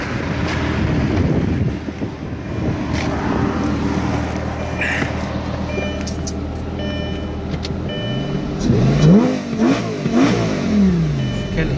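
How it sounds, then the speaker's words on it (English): Lamborghini engine revving: a deep, rumbling exhaust note holds steady, then rises and falls through several quick throttle blips near the end, with some wind buffeting on the microphone. "So first I'm gonna rev the engine so you can hear the engine"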